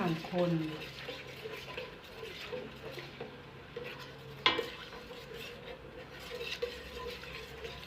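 Coconut cream heads simmer in a pot for green chicken curry while a spoon stirs them, giving soft, steady scraping and bubbling at a moderate level, with a brief sharp clink midway and a voice faintly at the start.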